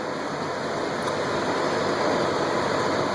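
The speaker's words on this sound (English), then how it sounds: "Sorry about the noise, that's my reefer running." A truck trailer's refrigeration unit running at a fuel pump, giving off a steady broadband mechanical roar and whir that stays loud and unchanging throughout, with no voices.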